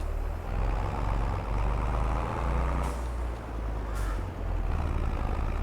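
A tractor engine in Farming Simulator 22 drones steadily and loudly, with a couple of brief hissing bursts over the rumble.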